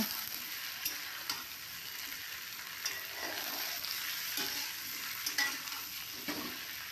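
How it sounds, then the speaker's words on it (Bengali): Chopped potato, tomato and onion fry together in oil, a faint, steady sizzle broken by occasional soft clicks and scrapes of a spoon stirring the pan. "এরপর আলু টমেটো পেঁয়াজ সব একসাথে একটু ভেজে নেব"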